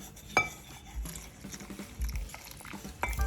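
A spoon or whisk knocks and scrapes against a bowl as milk is stirred into a spiced batter of red chili powder, paprika and salt, with soft irregular clinks and wet stirring sounds, fairly close and quiet.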